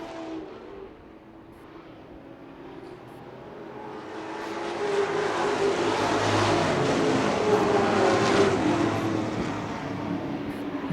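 Late model stock race cars roar around the track at Wood Pellet Warehouse, the engine noise building from a low drone into a loud pass before easing off slightly.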